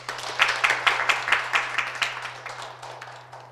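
Applause at a graduate school admissions information session starts suddenly with brisk, fairly rhythmic clapping from a modest crowd, then thins and fades over a few seconds, with a steady low hum underneath.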